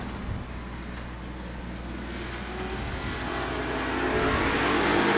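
Race cars battling side by side into a turn on a super short track, a continuous broad engine roar that builds steadily louder as the pack closes in, with no voices over it.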